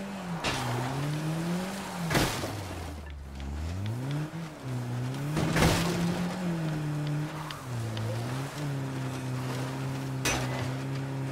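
A car driven in the video game State of Decay 2, its engine droning and rising and falling in pitch as it revs and shifts, with a few bumps and thuds.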